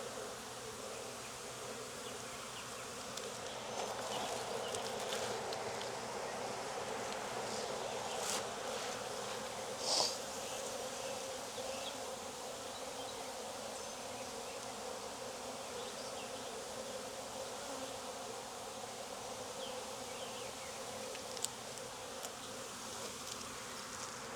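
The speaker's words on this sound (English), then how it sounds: "If I add any of these frames to the other hive, I just need to make sure I shake all the bees off" Honey bees drone steadily in a thick, continuous buzz around open hive frames outdoors in Jacksonville, Florida, a close dense hum with occasional brief knocks and no talking.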